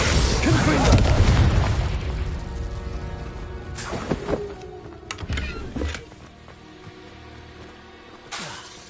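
A Confringo explosion spell goes off in the wizarding game Hogwarts Legacy, a loud booming blast with a rumbling tail, followed by quieter magical whooshes, pops and crackles that fade out, with a final smaller burst at the end.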